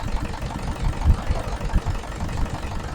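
A low, steady engine rumble idles close by, with a rough, even chugging throughout and no voices.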